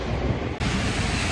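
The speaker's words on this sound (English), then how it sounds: "it's so windy now" Strong wind roars and buffets the microphone continuously, loud and broadband, with a brief dip partway through before the gusting resumes.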